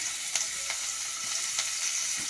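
Chopped onion hits hot oil in a pan for Bengali rui fish curry, a bright steady sizzle with a few sharp crackles and spits popping up, close and without speech.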